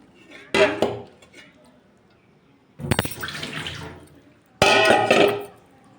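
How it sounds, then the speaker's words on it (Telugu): Three separate bursts of splashing water poured into a bowl while preparing Andhra-style fish curry, with brief clinks of kitchenware between quieter pauses. "మళ్ళీ మంచి నీళ్ళు పోసుకొని"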